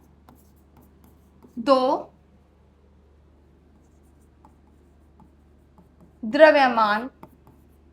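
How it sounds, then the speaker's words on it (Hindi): A pen scratches faintly across paper while a teacher writes out the definition of gravitational force in a physics lesson. The soft writing runs under and between two short bursts of speech. "तो आइए हम इसकी डेफिनेशन लिखते हैं।"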